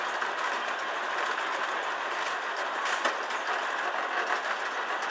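Steady mechanical rattling and grinding of a tourist tram rolling along on Grand Turk, a constant rushing noise with faint clicks, no voices.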